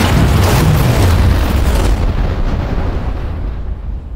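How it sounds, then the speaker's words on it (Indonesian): A massive, booming firecracker blast rumbles loudly and then slowly fades into a long, decaying roar. "Dahsyat banget ledakannya"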